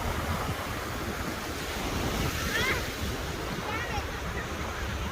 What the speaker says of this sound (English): Look, these waves coming faster and faster.